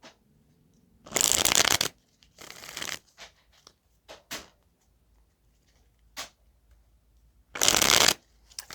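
A tarot deck themed on the Friends series is shuffled in three loud, riffling bursts with quiet gaps between them, and a few soft card taps and small handling sounds fall in those gaps. No one speaks.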